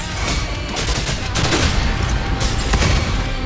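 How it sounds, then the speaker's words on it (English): Mortar fire pounds the player's position in the video game Wuthering Waves, a loud, continuous rumbling barrage of blasts and crackling bursts that runs throughout, with music mixed in beneath. "Another mortar thrown at us."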